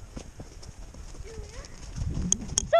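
Horse hooves clip-clopping at a jumping field, soft irregular thuds under a busy outdoor background, with a few brief high chirps near the end.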